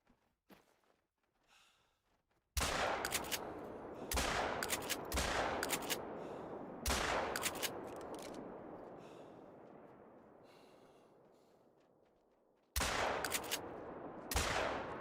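Rifle shots in a pheasant hunting video game: a sharp report, then a cluster of loud cracks with long rolling echoes that fade slowly, with a final pair of shots near the end.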